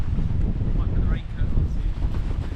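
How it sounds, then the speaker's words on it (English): Strong, cold wind roars and buffets steadily across exposed high ground on Scafell in the Lake District, a dense, low rumble of gusts against the microphone, with a faint voice barely audible underneath. "This wind's picking up."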